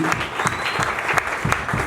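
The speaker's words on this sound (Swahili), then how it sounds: "makofi mazuri" A church congregation applauds during a prayer and fasting service, loud dense clapping filling the room for a couple of seconds, close and continuous.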